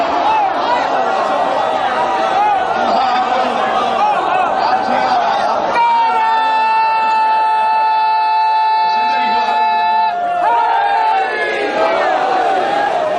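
At a 2012 religious gathering in Mailsi, a crowd loudly shouts the slogan Naara-e-Haidari, a dense roar of many voices, with one long sustained cry rising clearly above the throng midway.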